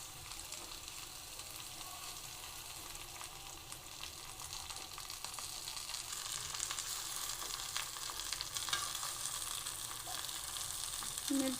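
Oil for a homemade organic hair oil heats on a stove, giving a steady broadband sizzle and crackle that holds constant and grows slightly louder, with no voices.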